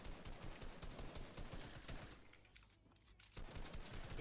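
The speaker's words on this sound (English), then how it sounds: "There's more people shooting." Gunfire in Fortnite competitive play: rapid overlapping bursts of shots rattle continuously, ease off into a brief lull, then resume with fresh volleys.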